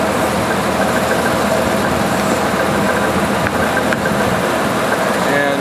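A fully warmed-up 1988 Jeep XJ engine idles with a constant low rumble and broadband hum, loud and close throughout, with no change in pace.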